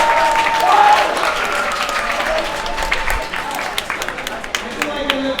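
Graduation-ceremony audience applauds after a graduate's name is read, a dense sustained wash of clapping with some cheering voices mixed in, fairly loud and steady throughout.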